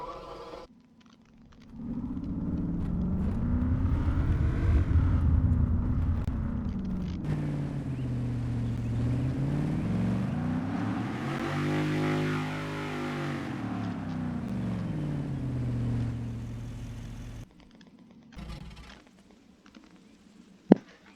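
Police vehicle engine in the video game Arma 3, heard alone and loud, revving up and down in repeated rising and falling sweeps before cutting off, with a brief sharp click at the end.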